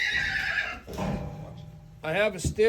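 A young mustang whinnies twice, a shrill shaky neigh at the start and another near the end, with quieter snorting and shuffling between.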